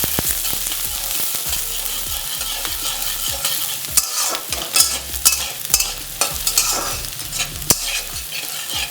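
Chopped beans, carrot and green chilli pieces frying in a pan for egg fried rice, a loud constant sizzle broken by repeated sharp scraping stirs of the spatula.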